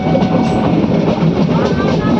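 A passenger train running on rails between Gir Gadhada and Sasan Gir, a loud continuous rumbling roar heard from inside the moving carriage, steady throughout.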